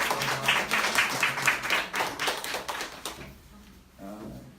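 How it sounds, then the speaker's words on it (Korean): Scattered clapping from a Korean church congregation welcoming a guest seated at the back, fairly quiet and uneven, tapering off after a few seconds into near silence. "저희 맨 뒤에 우리 한번 환영의 박수 한번 드리겠습니다"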